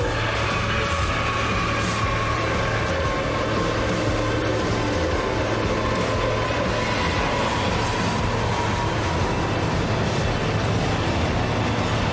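A long freight train rumbles steadily past at close range, with a constant low engine drone, rolling wheel noise and occasional faint metallic squeals, no voices.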